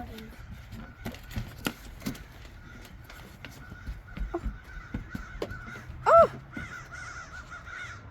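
Crows caw loudly and close by, a short burst of calls standing out over rustling background noise, while people talk quietly around them.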